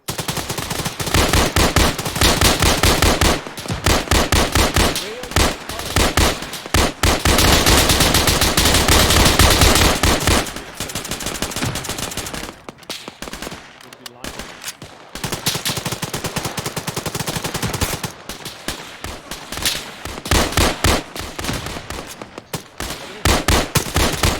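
A squad fires in the military shooter Arma 3, with dense loud automatic gunfire in long rattling bursts, a brief lull in the middle, then renewed volleys.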